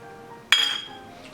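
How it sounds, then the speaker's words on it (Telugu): While lemon juice is mixed into ground chili paste, a utensil strikes the container once, giving a single bright, close clink that rings briefly and fades against a quiet background. "దీనిలో ఇప్పుడు ఇందాక మనం పిండుకున్న నిమ్మకాయ రసం దీనిలో కలపాలండి"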